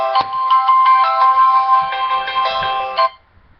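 A mobile phone ringtone rings out loud and close, a bright repeating electronic melody that plays for about three seconds before abruptly stopping, with faint shuffling afterward.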